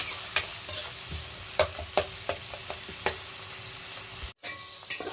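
Onions and green chillies fry in oil in a pan, a steady close sizzle broken by sharp scraping stir strokes roughly every half second, with a short gap near the end and no talking.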